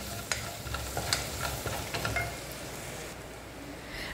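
Garlic frying in bacon fat for tutu de feijão, a continuous crackling sizzle with scattered spoon scrapes and taps, fairly close, steady throughout.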